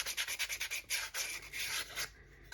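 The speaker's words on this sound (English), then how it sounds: "Again, sandpaper. I'm going to take off all of these edges." Sandpaper rubbed by hand along the edges of a plate, in quick rhythmic back-and-forth strokes that stay close and steady, then ease into a longer, smoother pass, with no talking.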